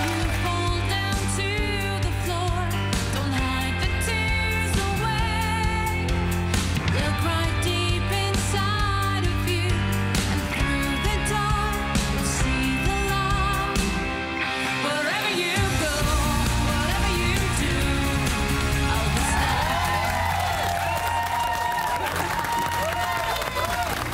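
A music video for a song plays on a TV studio show, with dense, steady music running throughout and a shift in texture partway through.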